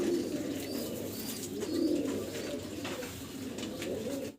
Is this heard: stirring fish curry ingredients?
no